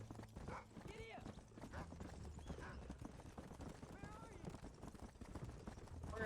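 Horse hooves clip-clop in a steady galloping rhythm in Red Dead Redemption, with an occasional whinny and a voice talking over the hoofbeats.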